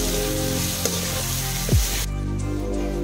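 Masala for egg curry fries in a pan with Kashmiri red chili, giving a loud, steady, close sizzle with a light stirring scrape, and no voices.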